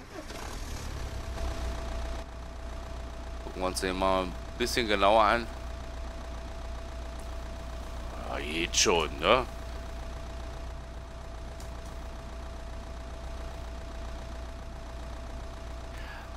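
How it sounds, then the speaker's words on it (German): A Ford Transit van engine idles in Euro Truck Simulator 2, a low, steady rumble that runs continuously under a man's occasional speech. "Motor an."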